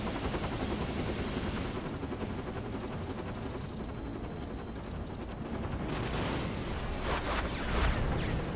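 A helicopter battle in Dirge of Cerberus: Final Fantasy VII, with a steady loud rotor-like roar blended with continuous gunfire and explosive bursts, swelling with whooshes toward the end.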